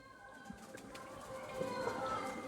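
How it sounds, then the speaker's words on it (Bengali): A pair of Rampuri pigeons with two young chicks coo softly at a pigeon sale in Kolkata, with faint chirps over a busy, murmuring background. "রামপুরি পায়রা আপনারা দেখুন, অনেকজনই রামপুরি পায়রা পছন্দ করেন।"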